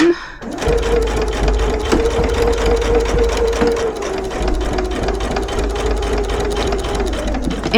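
A home sewing machine stitches through a reversible bag under the presser foot, a steady close mechanical whir with rapid needle clatter that runs continuously for several seconds.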